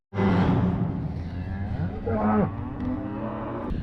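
Cattle are being worked on a farm in winter, and a loud, close cow moo with a rising then falling pitch is followed by a shorter second bellow.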